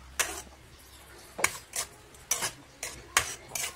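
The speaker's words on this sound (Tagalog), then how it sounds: "Haluin lang po natin mabuti." Tuna carbonara sauce with Nestle cream stirred in a pan, a spoon scraping and clinking against the metal in repeated sharp strokes about every half second, close and clear with no talk.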